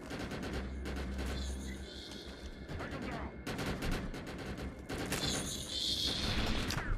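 Rapid bursts of assault rifle fire in the online shooter game Defiance, loud and close, repeating in clustered volleys across the whole stretch with booming impacts between them.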